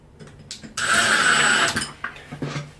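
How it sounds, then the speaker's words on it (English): A power drill whirs steadily for about a second while driving screws through a handheld bidet sprayer holder, with brief quieter tool sounds before and after. "So now we can take our holder and drive our screws through."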